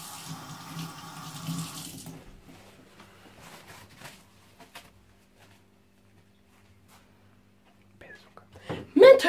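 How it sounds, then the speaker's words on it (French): Tap water runs and splashes over hands being washed at a sink for about two seconds, then a long near-silence with faint handling knocks, and sharper clatter at the end. "on doit se laver les mains."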